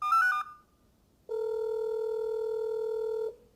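A phone call being placed: a short burst of keypad dialing tones, a brief pause, then a long steady ringback tone lasting about two seconds, clear and alone.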